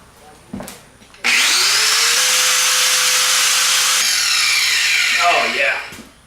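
Handheld power tool, likely an angle grinder with a wire or abrasive wheel, scours a steel surface ahead of welding, its loud steady whine running for about five seconds before spinning down, with brief sounds before it starts.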